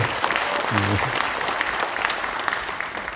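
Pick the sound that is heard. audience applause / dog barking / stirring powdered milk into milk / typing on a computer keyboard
audience applause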